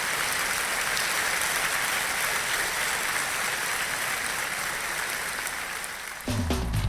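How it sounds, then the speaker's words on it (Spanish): A church congregation applauds during a sermon, steady dense clapping from many people that carries on for several seconds before cutting off abruptly as music begins. "A un aplauso al Señor"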